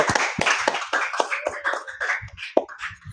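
A few people clap their hands during a school OSIS podcast recording, sharp irregular claps close to the mic with brief gaps and some scattered taps.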